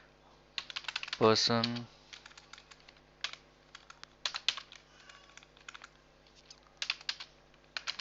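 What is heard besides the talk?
typing code on computer keyboard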